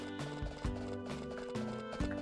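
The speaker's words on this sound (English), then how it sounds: "Ride this horse." Galloping horse hooves in the farming game Harvest Moon A Wonderful Life, a steady clip-clop rhythm over looping game music with no talk.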